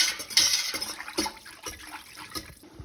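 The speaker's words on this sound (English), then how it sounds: "This is a fairly quick process, so you want to continually stir." Mayhaw jelly is stirred continually in a pot on the stove, with steady scraping, sloshing and clinking of the utensil against the pot, close and busy with no talking.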